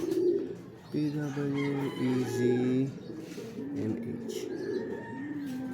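Racing pigeons returning from a derby coo softly in low, rolling tones nearby, while people talk quietly in the background.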